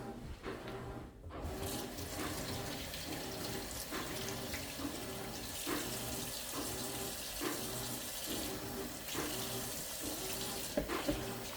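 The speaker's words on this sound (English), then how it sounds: "you're going to add some warm water to this to kind of be able to stir it and help it to dissolve" Warm water runs steadily from a kitchen sink tap into a pitcher, a continuous close splashing stream that holds for the whole stretch with faint small clinks, no talking.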